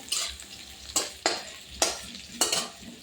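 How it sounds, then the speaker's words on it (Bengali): Potatoes stir-fry in a hot pan, with a sizzle under four sharp rhythmic strokes of a spatula scraping and tossing them, close and clear. "এবার একটু নেড়ে চেড়ে একটু ভাজা ভাজা করে নামিয়ে নেব"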